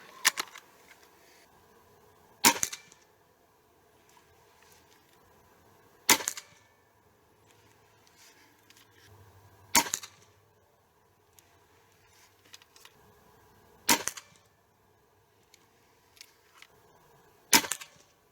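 A Hatsan Mod 125 Sniper Vortex .22 air rifle is fired five times, each a sharp, loud crack spaced a few seconds apart, with near silence between shots.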